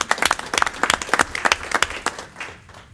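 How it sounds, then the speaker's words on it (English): Audience at a TREC board meeting gives a round of applause, a brisk burst of close hand claps that thins out and fades over a few seconds, with no voices on top. "we're going to give you a round of applause"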